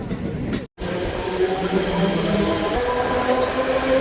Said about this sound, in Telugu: రెండు ట్రైన్లు ఒకటేసారి పోతున్నాయి చూడండి